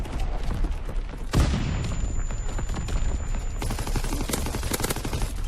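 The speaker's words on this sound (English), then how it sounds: "Artillery right on my head." Artillery in the video game Call of Duty WWII lands nearby with one heavy boom amid continuous crackling gunfire and battle noise throughout.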